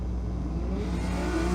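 BMW drag cars, one fitted with a roof rack, accelerating down a drag strip at a raceway, a loud steady engine roar with rising revs throughout the short burst.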